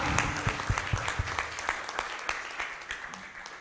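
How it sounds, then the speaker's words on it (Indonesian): An audience at a talk on the brain and altruism claps briefly, a moderate burst of scattered hand claps that thins out within a few seconds. "Ya, kita tepuk tangan."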